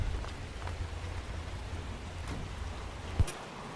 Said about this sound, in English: looks like we've gone into a bit of a storm here